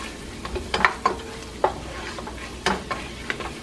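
Flour cooking in a pan for a roux in a creamy chicken and sautéed mushroom dish, a soft constant sizzle with a few sharp spoon taps and scrapes against the pan, no voices.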